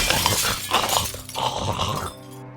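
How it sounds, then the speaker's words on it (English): A glass window in a door smashes as an infected zombie bursts through, with a loud crash and scattered breaking glass followed by a sudden drop into quiet. "The infected smashes his face through my door's window."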